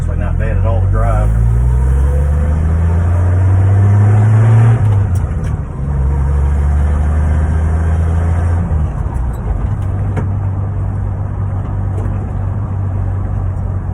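A 1977 Ford F150 Custom with a 300 engine, two-wheel drive and manual steering, drives along with a steady low engine drone that rises and shifts through gear changes, loud and close, with talking over it.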